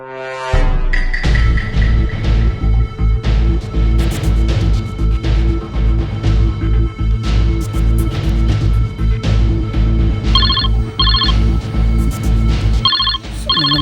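A telephone rings with an incoming call in short repeated electronic bursts, loud over a steady backing of music with no talking.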